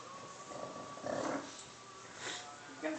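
Small dogs indoors growl and grumble at each other in short low bursts, fairly quiet and close, with a brief sharper snarl near the end.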